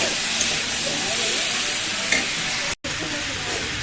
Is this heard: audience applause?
no